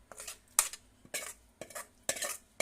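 Spoon scraping and clinking against a metal pot while mixing tamarind pulihora paste into cooked rice, four or five close, bright scraping strokes in a steady rhythm with no talking.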